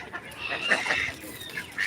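Ducks and their ducklings call in a short burst of nasal, honking quacks, several in quick succession at close to moderate distance.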